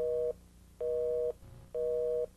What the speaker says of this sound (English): if you hear a normal line busy signal